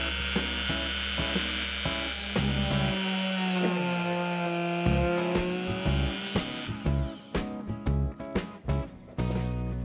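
A rotary tool mounted in a Veritas plunge base drills a hole with a loud, steady high-pitched whine that shifts in pitch as it runs, then breaks into several short clattering bursts near the end.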